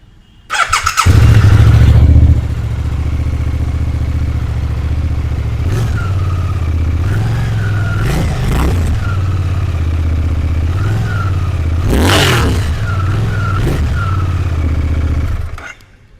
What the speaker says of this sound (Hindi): Now talking about the exhaust sound of GSX 8R,